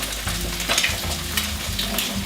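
Eggs frying and being stirred in a pan while making Thai noodles, a steady close sizzle with scraping spatula strokes throughout, no talk.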